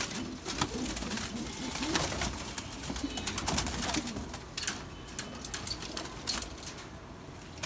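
Khal pigeons, including a red chap-khal, coo softly at close range in a loft, with some rustling and clinking around them.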